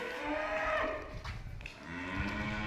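A Jersey cow at a Punjabi dairy farm moos in one long, drawn-out, fairly loud low call with a brief break in the middle. No one speaks.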